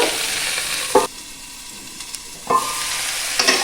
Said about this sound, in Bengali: কিছুক্ষণ কষতে থাকবো, হালকা করে একটু অল্প আঁচেই কষবো, যাতে এগুলো একটু নরম হয়ে যায়।